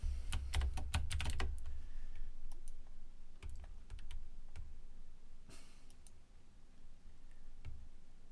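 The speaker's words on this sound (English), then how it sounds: "I know I'm typing a lot." Rapid bursts of computer keyboard typing, loud and close at the start, then sparser scattered keystrokes and clicks continuing alone over a steady background hum.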